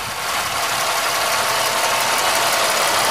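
A GM 3100 V6 idles steadily, close and loud, with a broad continuous engine roar that buries any light piston slap knock.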